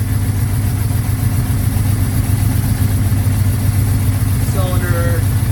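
A 1981 Suzuki GS550 motorcycle engine, freshly fitted with rebuilt carburetors, idles around 1,000 RPM with a steady low, even throb, close and loud; a voice briefly speaks near the end.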